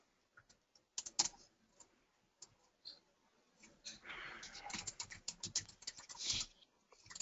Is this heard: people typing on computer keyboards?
yes